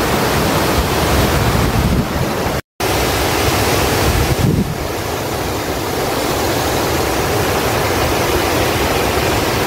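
Water pouring steadily over an irrigation dam spillway in Ninh Thuan, a broad continuous roar of falling water with wind buffeting the microphone, loud and unbroken apart from a brief dropout.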